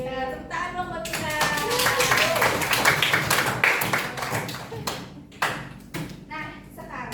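A group of children clapping together as a round of applause for themselves, a dense burst of hand claps under excited kids' voices and chatter, close and lively.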